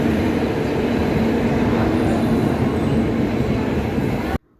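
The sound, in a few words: train arriving and running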